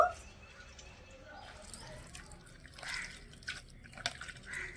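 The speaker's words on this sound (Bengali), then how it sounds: "এভাবে করে একটু চিপে চিপে রসটা বের করে নেব" Orange juice drips through a strainer as peeled orange segments are squeezed by hand, giving a quiet, faint scatter of small drips and soft wet squelches.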